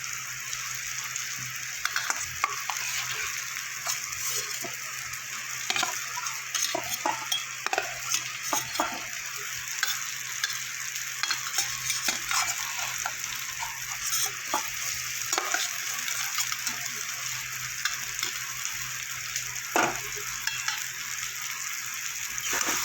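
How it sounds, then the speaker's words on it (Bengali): Fried potatoes stirred into a sizzling spiced masala for a Bengali rohu fish curry, with steady frying crackle and a spoon scraping the pan repeatedly throughout. "এবার আমি ভেজে রাখা আলুগুলো দিয়ে দেবো।"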